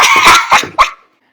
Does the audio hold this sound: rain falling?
no